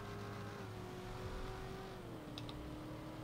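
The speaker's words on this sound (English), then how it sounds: "Little double clutch right there" A car engine in the GTA video game holds a steady, moderately loud drone, then its pitch steps down near the end as a gear changes with a double clutch, with brief clicks over the top.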